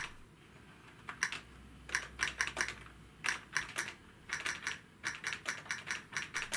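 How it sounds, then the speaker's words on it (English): Keys clatter on a replacement ZX Spectrum keyboard, quick irregular bursts of clicks separated by short pauses, close and fairly quiet with no voices. "This keyboard really shines when used for text entry."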